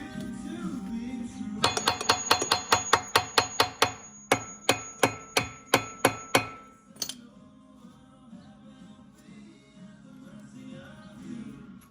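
A fiberglass hammer strikes a seized alloy bogie wheel on a CAT 257B, about fifteen sharp metallic clanks in a steady rhythm, close and ringing, then quieter background noise and faint talk.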